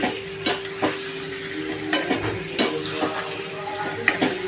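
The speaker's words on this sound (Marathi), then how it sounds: "आपण ही छान अशी परतून घेणार आहे तेलावरती वांगी" Stuffed brinjal sautés in oil with tomato, a close sizzle punctuated by repeated scraping stirs of a spatula against the pan at an irregular rhythm, without speech.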